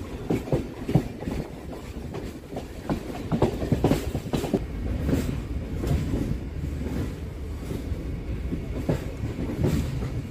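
A commuter train rolls into the platform at Budge Budge station in West Bengal, a steady low rumble with rhythmic wheel clatter over rail joints, close and continuous throughout.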